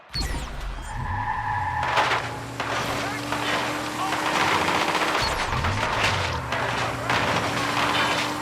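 Rapid bursts of automatic gunfire mixed with engine noise and effects in the video game Watch Dogs 2, loud and continuous, with voices shouting over the action.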